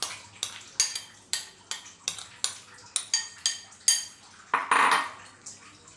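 A spoon spreads lentil paste around a metal bowl, giving a steady series of about a dozen close, sharp clinks and scrapes in an uneven rhythm, with one longer scraping smear near the end.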